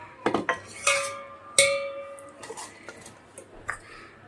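Metal bowl, a duplicate silver-look dish, being handled during Ram Navami panakam and vadapappu preparation, giving several bright clinks and ringing taps with short metallic tails, close and fairly quiet, with no talk.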